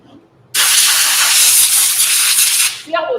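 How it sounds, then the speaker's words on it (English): Compressed air blasts across a scrap wood heart in a strong, steady hiss that starts abruptly, holds for over two seconds, then cuts off, followed by a brief fainter sound. "I'm going to spray it off a little bit with air"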